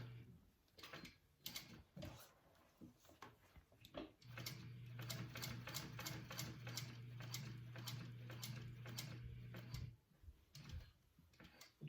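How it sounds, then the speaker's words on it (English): A sewing machine stitches a seam on a Magdalena circle bag, running in a steady continuous hum for several seconds after a few short ticks and clicks, then stopping near the end; close and moderately loud. "stitching this through now"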